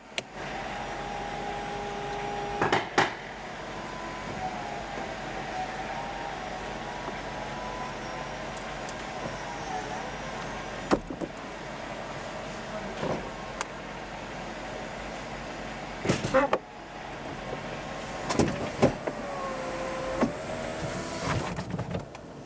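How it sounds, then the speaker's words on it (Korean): A 2014 Mercedes-Benz E200 Cabriolet soft top closing, a long steady electric motor whine with shifting pitch, broken by several sharp clunks and latching thuds along the way, heard close up. "이 차량 같은 경우는 또 소프트탑이거든요. 그래서 소프트탑 한번 닫아보도록 할게요."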